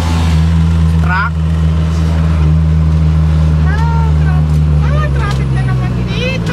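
Heavy road traffic with cars and trucks: a loud, steady engine rumble close by, with voices talking over it throughout.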